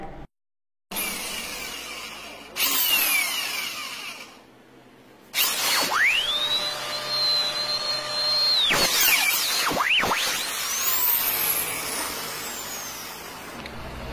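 A power drill bores a hole in metal on a motorcycle rear shock in several bursts, whining and pitching up and down as it bites, with pauses between runs.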